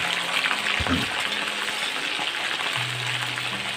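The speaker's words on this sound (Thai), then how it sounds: "เอาปลาดกเรามาทอดกรอบก่อนครับ" Oil crackles and sizzles steadily as walking catfish deep-fries until crisp, a dense bubbling hiss with occasional pops.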